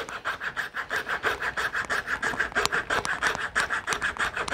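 A wooden branch is cut by hand to shape a crochet hook, giving a rhythmic rasping saw stroke repeated about three times per second, close and steady with no talk.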